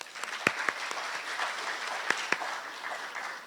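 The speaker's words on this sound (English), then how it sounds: "Give them a round of applause." An audience at a national youth awards ceremony applauds the nominees: a moderate patter of clapping with a few sharp, distinct claps standing out near the front, steady and unaccompanied by speech.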